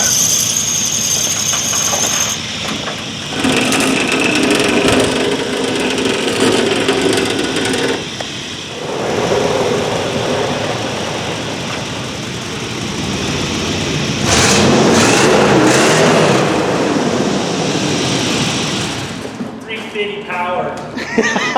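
A rusty-framed 1996 GMC Yukon engine cranks, catches and runs, rising into loud revs midway and then settling again, with people talking over the continuous rumble.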